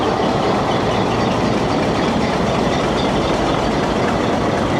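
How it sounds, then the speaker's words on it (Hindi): A Hitachi HBU locomotive runs with a steady, dense diesel rumble, loud and continuous, with no voices. "दोस्तों ये है हिटाची HBU 208060 लोकोमोटिव।"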